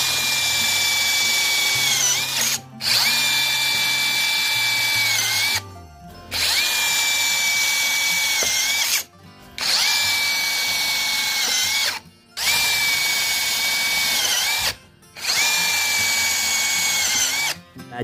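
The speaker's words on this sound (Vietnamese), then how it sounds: "mình test thử chức năng bắn tôn của con máy coi như thế nào hay nè." A KINGPRO brushless cordless hammer drill drives self-drilling screws into sheet metal roofing, its motor whining loudly in five sustained bursts of about two to three seconds each, separated by brief pauses, with no talk.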